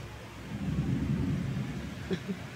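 Distant rolling thunder rumbles low and steady under a wash of rain during a storm outside, with a couple of faint brief knocks near the end.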